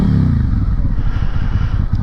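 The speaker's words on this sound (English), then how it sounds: "It's got a Beowulf exhaust on it, sounds pretty awesome." Suzuki Gladius motorcycle fitted with a Beowulf exhaust, a close, loud, throbbing low engine note that rises in pitch at first, then settles into a rapid pulsing idle burble.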